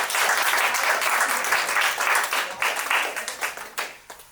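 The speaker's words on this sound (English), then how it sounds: "So give yourself a round of applause." A crowd claps loudly and steadily, a dense wash of applause that thins out and fades toward the end.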